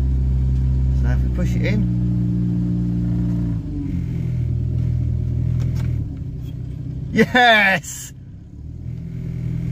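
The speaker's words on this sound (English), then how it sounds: "you can now hear it is running really smoothly and it's sitting now on fast idle at 2000 RPM" Renault 10 engine sitting on fast idle at about 2000 RPM after a choke adjustment, a smooth steady hum that settles slightly lower, with someone speaking briefly over it and a short excited exclamation.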